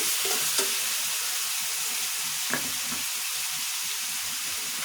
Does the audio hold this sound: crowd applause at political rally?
no